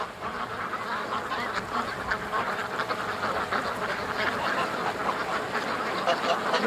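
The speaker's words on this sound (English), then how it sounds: "What a cute little duck." A crowd of ducks quacks and honks in a busy outdoor flock, a continuous dense chatter of overlapping calls at a steady, fairly loud level, with possible faint voices underneath.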